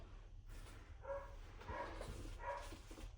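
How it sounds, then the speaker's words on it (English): A dog barks three times in a steady rhythm, somewhat distant and muffled, over a quiet room hum. "If you hear someone barking, it's just my dog"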